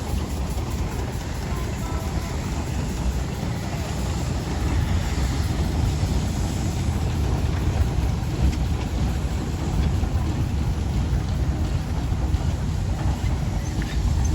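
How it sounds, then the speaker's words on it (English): A Brown and May steam engine arriving at a steam rally parade gives a steady, continuous rumble and hiss at moderate distance, with outdoor wind noise throughout. "I think this is now the last full-size engine that's coming in, the Brown and May engine"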